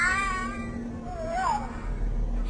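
A house cat in a well-known internet cat video meows as a fan hums steadily underneath, with one cry near the start and a second, gliding cry about halfway through, both close and clear.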